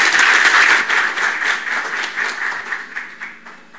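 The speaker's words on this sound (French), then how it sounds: "Sous vos applaudissements, s'il vous plaît." Audience applause at an official decoration ceremony, a crowd clapping loudly at first and then gradually fading over a few seconds, with no voices.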